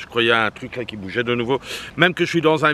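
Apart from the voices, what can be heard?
No everyday noise stands out behind the speech.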